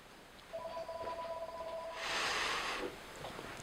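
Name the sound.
telephone ringing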